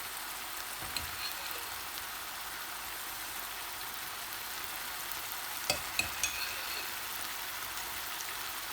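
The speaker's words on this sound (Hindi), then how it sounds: "ये हमने कीमा डाल दिया है। इसमें कीमा हमारा पकना शुरू हुआ है" Chicken mince cooks in a pan for lasagne with a soft, even frying hiss throughout, broken by a few faint utensil taps near the end.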